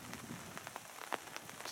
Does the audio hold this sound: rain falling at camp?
yes